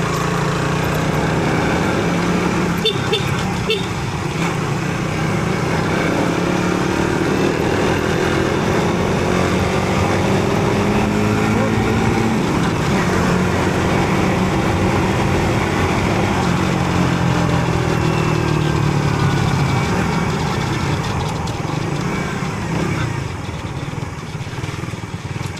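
Steady motorcycle engine hum during a road test ride, running continuously and fairly loud with shifting pitch as the bike moves, alone without talk.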